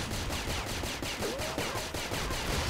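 Rapid bursts of gunfire from a shooting video game crackle in a dense, loud, continuous stream of repeated shots with no pauses.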